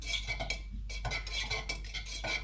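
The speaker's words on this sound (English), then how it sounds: "and then you just stir it straight in" A tin of satin black paint is stirred after an additive is strained in through a filter, giving close, rhythmic scraping and clinking strokes of the stirrer against the can.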